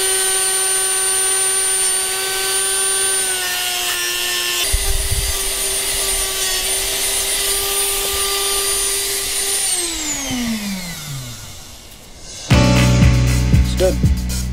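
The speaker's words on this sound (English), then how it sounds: "we're going to use our Dremel" A Dremel rotary tool works on the fuel system of a 1988 Mazda RX7 FC3S with a loud, high steady whine that spins down after about ten seconds, followed by a burst of clattering, scraping handling noise.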